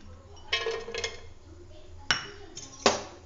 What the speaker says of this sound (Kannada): ಈಗ ಇದಕ್ಕೆ ಡ್ರೈ ಫ್ರೂಟ್ಸ್ ಎಲ್ಲ ಹಾಕೊಂತಿದ್ದೀನಿ